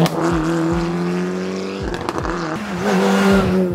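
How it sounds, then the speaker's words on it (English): Track and safety cars driving by on a stage of the Killarney Historic Rally, loud engines droning and shifting pitch as they approach and pass close, one after another, with no voices. "So we've just got the first kind of track and safety cars coming through at the moment."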